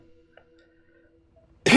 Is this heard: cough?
yes